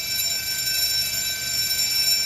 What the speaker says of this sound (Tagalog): Alam nyo ba kung bakit nag-alarm ulit siya?